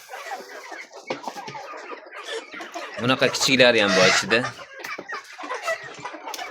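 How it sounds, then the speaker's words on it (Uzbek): Adler breed roosters crow among clucking hens and chicks, with one fuller crow rising in the middle while someone talks over the birds. "Xo'rozlar qichqirib qolgan xo'roz hammasi."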